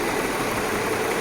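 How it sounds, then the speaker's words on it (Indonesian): A car engine idles steadily with a dense, continuous low rumble and vibration while an injector test knocks the rpm down, leaving it running slightly rough and uneven, close and alone with no voices. "Mesin menjadi agak berbet dan RPM turun."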